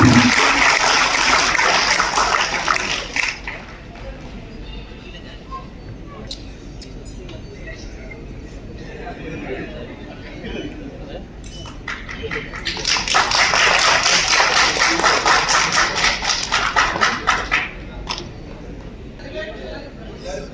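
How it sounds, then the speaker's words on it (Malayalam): An audience at a film event claps in two loud, dense bursts of applause, one at the start and one swelling later, with someone talking on a microphone between them and over the quieter stretch. "കൈയടി, നല്ല കൈയടി എടുക്കണം."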